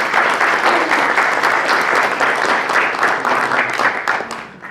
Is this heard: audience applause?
yes